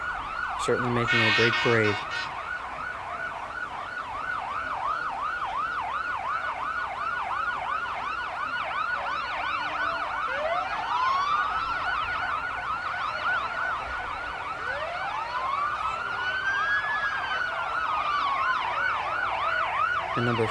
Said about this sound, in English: it sounds like we've got a number of fire trucks coming up here